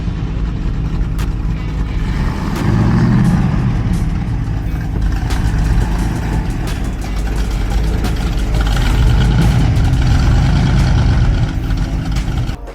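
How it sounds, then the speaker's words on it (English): A pink Dodge Challenger TA rolls in with its engine idling, a loud, steady low rumble close by that swells slightly as the car approaches. "Thought the video was over, and then this guy rolls in. Pink Challenger TA."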